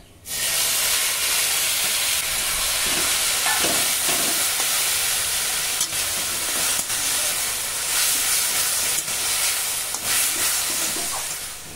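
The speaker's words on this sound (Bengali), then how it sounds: "রসুন ভাজা ভাজা করে নিয়েছি, ঢেলে দিচ্ছি শাক।" Mixed leafy greens (five-green pach mishali shak) hit a wok of hot oil and fried garlic, giving a loud, steady sizzling hiss from start to finish with no talking.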